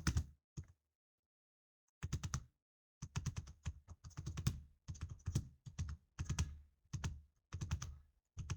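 Quick bursts of close clicking keystrokes on a computer keyboard come in uneven clusters separated by short pauses, with one longer silent gap near the start.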